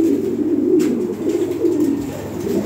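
A Lahore pigeon coos in a low, continuous, rolling murmur, close and fairly loud, with no talk over it.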